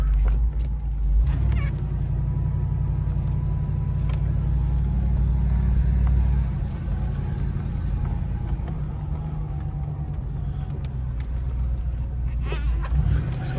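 A 1994 Cadillac Deville on a short test drive gives a steady low engine rumble and road drone from inside the cabin, with faint ticks and a slight easing of the hum midway.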